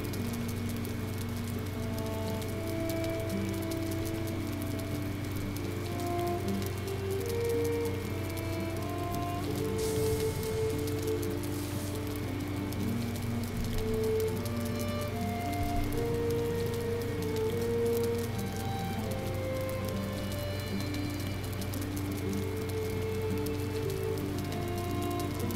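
Steady rain in the video game Valheim, a constant even patter of drops with a low background hum beneath it, running the whole time without talk.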